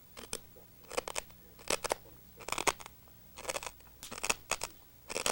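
Glass crunching between the teeth from a broken bulb, a series of sharp, close bursts that come in clusters about every second and sound brittle and crackly.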